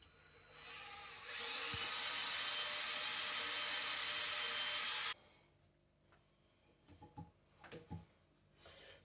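A power drill whines at a steady high pitch for a few seconds while drilling into metal, then stops, followed by scattered clicks and light clatter.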